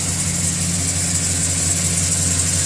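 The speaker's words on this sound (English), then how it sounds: "You've got the beautiful Vortec motor in here." GMC Z71 truck with a Vortec engine idling steadily up close, a loud continuous low rumble with even mechanical pulsing and no talk.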